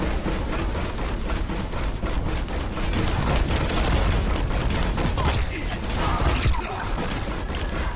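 Torbjorn's automated turret in Overwatch fires in rapid, sustained bursts amid loud battle noise, continuous and close, with a player talking over it at times.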